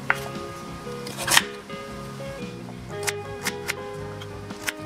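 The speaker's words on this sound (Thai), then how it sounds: "เราจะหั่นมันม่วงกันก่อนนะคะให้เป็นชิ้นลูกเต๋านะคะสี่เหลี่ยม" A knife chops purple sweet potato into cubes on a board, a handful of crisp, close taps spaced irregularly, with soft background music playing underneath.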